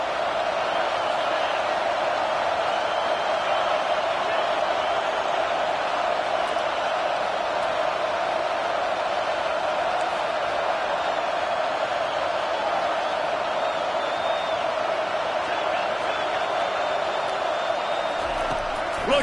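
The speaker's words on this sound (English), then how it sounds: "This crowd knows when to bring it." Stadium crowd in a football video game, a steady loud roar of cheering that holds evenly throughout with no clear breaks.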